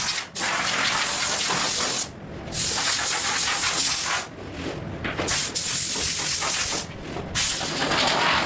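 Spray gun dusting a light coat of paint onto Lambretta scooter bodywork, a steady close hiss in long bursts broken by brief pauses.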